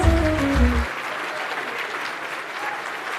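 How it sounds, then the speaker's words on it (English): A gala awards-ball audience breaks into a round of applause, dense clapping that carries on steadily after a brief moment of voice and music at the start. "Huge round of applause."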